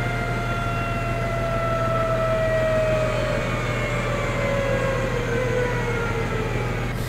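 A farm machine winding down in the video game Farming Simulator 19, a loud steady engine drone under a whining tone that slowly falls in pitch, with no talk.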